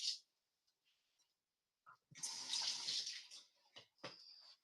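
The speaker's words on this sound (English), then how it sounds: "So let me rinse my celery." Celery rinsed under a running kitchen tap while making lentil soup, a steady broadband rush of water lasting a couple of seconds after a quiet start, close and fairly loud, with a few short splashes and clatters afterward.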